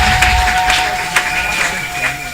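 A church congregation claps and cheers in praise during a service, a dense, steady crowd noise of applause with voices mixed in, loud and continuous throughout.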